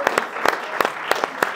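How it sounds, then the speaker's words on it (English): Sparse, scattered hand claps from a small audience at a college men's soccer season awards banquet, a handful of separate bursts rather than full applause. "Round of applause."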